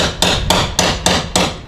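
A hammer drives a Hard Dog roll bar into place with five evenly spaced, loud close blows about a quarter second apart, each ringing briefly in the metal.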